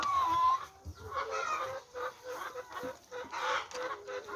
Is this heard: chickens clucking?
yes